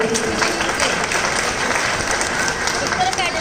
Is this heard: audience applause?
yes